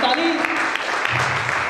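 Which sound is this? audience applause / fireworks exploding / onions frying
audience applause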